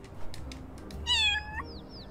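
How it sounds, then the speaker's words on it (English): A cat character meows in the video game Little Kitty, Big City: one clear, fairly loud, drawn-out meow with a rising then falling pitch, followed by faint chirpy game sounds over a low background hum. "I can meow!"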